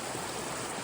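Water running steadily down an old creek channel after a flood, a continuous close rushing wash with no pauses.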